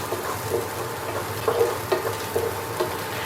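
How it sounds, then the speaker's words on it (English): Chopped hazelnuts dropped into a pan of sizzling lemon garlic butter sauce, a steady close crackle with a few soft stirring knocks. "now I'm going to add my little hazelnuts in there that I've chopped up"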